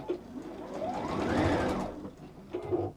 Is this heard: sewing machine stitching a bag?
yes